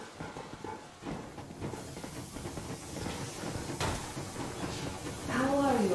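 The Yermak steam locomotive in Metro Exodus lets out a broad, steady hiss of steam that builds toward the end, with low voices and game sounds mixed in.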